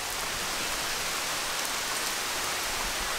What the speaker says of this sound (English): I mean, I want the rain, that's good